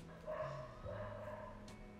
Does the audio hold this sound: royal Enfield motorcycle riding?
no